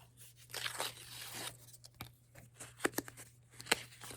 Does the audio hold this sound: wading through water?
no